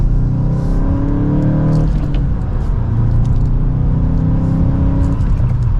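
A 2023 Volkswagen Golf GTI SE in sport mode pulls from second gear at half throttle, its engine drone steady and loud from inside the cabin, with a brief shift-like dip midway before the note continues.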